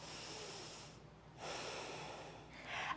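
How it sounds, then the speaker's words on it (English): Slow, deep breaths drawn in and pushed out during a standing core activation exercise, a long airy inhale and exhale with a short quiet pause between, close and fairly soft. "breathing in and out, and as we breathe, we're going to open up the ribs first"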